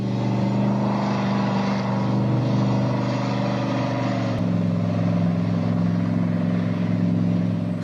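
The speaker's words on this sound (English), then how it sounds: "but check out this V8 mono wheel." A V8-powered monowheel drives continuously with a steady, loud engine drone that shifts pitch slightly midway, with no pause or break in the sound.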